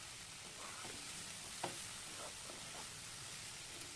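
Okra (ladies finger) frying on a low flame, a soft, steady sizzle heard faintly up close, with a couple of small clicks from stirring breaking the even hiss.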